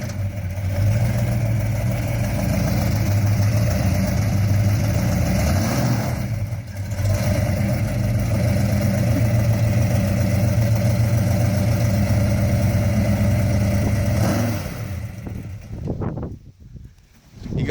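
A 1968 Dodge Charger with a Hemi engine runs nearby with a deep, steady rumble that stays loud and even for most of the stretch, then drops off sharply near the end.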